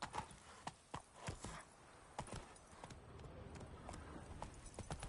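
Hooves of Roach, Geralt's horse in The Witcher 3: Blood & Wine, clip-clopping with an irregular, uneven gait, quiet and close.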